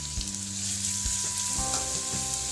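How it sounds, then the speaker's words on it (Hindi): Garlic sizzles steadily in about four tablespoons of hot oil, a dense close-up frying hiss with a few soft clinks, heard alone with no voices, while Schezwan sauce is being made. "जब तेल गरम हो जाए तब हम उसमें गार्लिक ऐड करेंगे"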